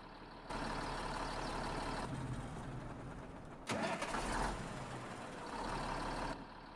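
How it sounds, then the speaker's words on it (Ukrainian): A tractor engine in Farming Simulator 22 cranks and catches, settling into a steady low rumble with a brief sharp burst partway through, then cuts off. "Оце звучок заводження"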